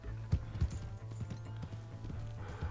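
Horse hooves clip-clop in Red Dead Redemption 2, several dull thuds grouped in a loose gallop rhythm over a steady low hum, with faint ambient game sounds behind and no talking.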